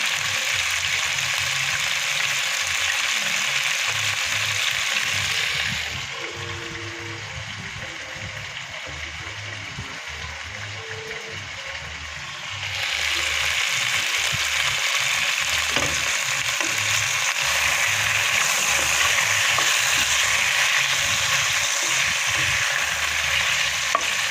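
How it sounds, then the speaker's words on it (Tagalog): Chicken feet fry in a pan for adobo with a loud, continuous sizzle that drops quieter for several seconds midway and then rises again. A person talks over the cooking. "iprito natin ng bahagya"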